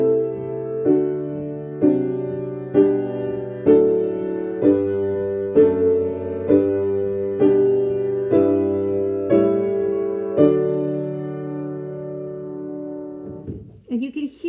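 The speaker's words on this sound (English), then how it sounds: "we now have a hymn that sounds like this" A harmonized hymn chorale on piano, with block chords struck at a steady slow pace, each sustained and decaying before the next, loud and close, ending on a held final chord.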